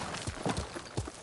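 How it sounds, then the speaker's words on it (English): Horse hooves clip-clop in a quick, uneven rhythm of several soft thuds, close and moderately loud, during a ride through a forest in the samurai game Ghost of Tsushima on PS5. "Horse!"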